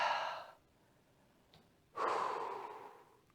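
Deep breathing during a yoga session: a long exhale fades out, a pause follows, then another slow, full breath rises and trails off, heard close and alone.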